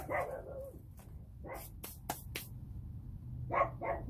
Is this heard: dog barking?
yes